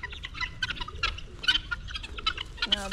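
Domestic fowl on a farm make repeated clucking and chattering calls at close range, ending in a louder drawn-out cry, with no talking.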